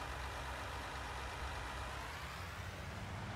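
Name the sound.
cotton harvester engine starting and idling, Farming Simulator 19 video game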